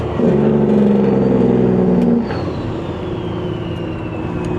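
A truck engine roars loudly for about two seconds, then drops to a steadier, quieter drone; no one speaks over it.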